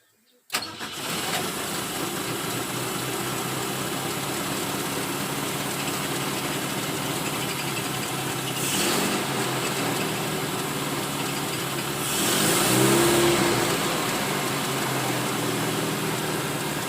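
Chevette car engine fitted with a motorcycle carburetor starts up and runs steadily at idle, with a couple of brief revs rising above the running note; a voice talks faintly now and then.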